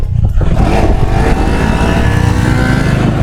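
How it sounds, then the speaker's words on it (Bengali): A loud motorcycle engine rumbles close by near Dal Lake in Srinagar, catching and settling into a steady throaty idle with a slight rising rev. "তোর বাইক স্টার্ট হয়ে গেছে।"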